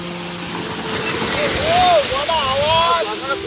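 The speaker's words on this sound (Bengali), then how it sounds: "সেই সমুদ্রের আওয়াজ রে" Ocean surf rolls onto the beach at Bakkhali as a continuous broad roar that swells slightly midway, with voices talking over it.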